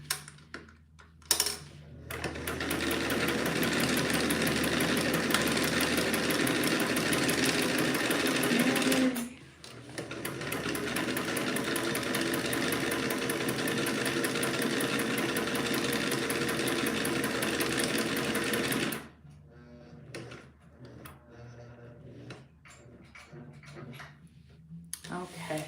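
Domestic sewing machine stitching fabric in a hobby crafting session, a steady loud mechanical whir running in two long bursts separated by a short pause, then stopping, with brief talk at the start and afterward.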